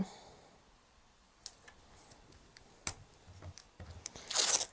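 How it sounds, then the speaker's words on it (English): Adhesive tape pulled and pressed down while taping a stamping project, heard as a quiet series of sharp clicks and crackles that ends in a louder, brief tearing rasp, close by with no talk. "Okay, taping it down."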